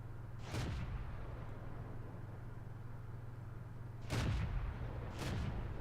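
Tank cannon fire in the video game World of Tanks, a few faint distant booms spaced apart over a steady low engine rumble.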